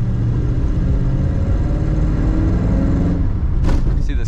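A 1950 Ford Coupe with a three-speed column shift drives down the road, its engine a loud, steady low rumble close by that holds even throughout, with a brief brighter noise near the end.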